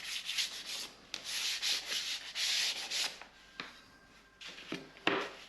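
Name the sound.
sanding wood pantry shelves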